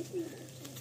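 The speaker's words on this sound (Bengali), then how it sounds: "এটা চটিয়াল পায়রা দেখুন" A Chotial pigeon, an Andhra flying breed, gives a single short, low coo nearby, soft and brief against a quiet background.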